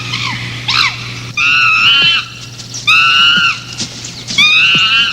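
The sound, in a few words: chimpanzee screaming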